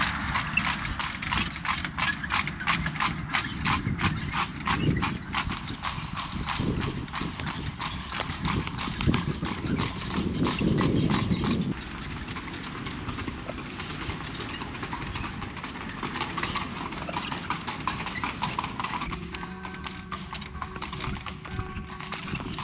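Horse hooves of a fiacre carriage clip-clop in a fast steady rhythm on Vienna streets, close and continuous, with creaking and rattling from the carriage over a constant rumble.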